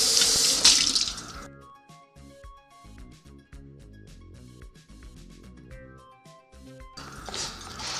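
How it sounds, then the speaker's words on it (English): Tap water runs onto a terracotta dish being rinsed in a kitchen, a steady close gush at the start and end with quieter music playing in between. "we're just going to rinse this off really easily with clean water"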